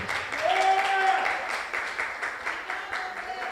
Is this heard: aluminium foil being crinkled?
no